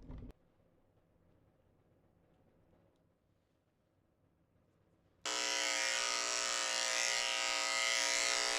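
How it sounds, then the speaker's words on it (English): Electric clippers with a 7 blade shaving a Maltese-Poodle dog's chest start up partway through with a loud, steady buzz that stays constant after a quiet stretch of faint background noise. "I'm shaving her chest out a little bit shorter. I'm using a 7 blade under here."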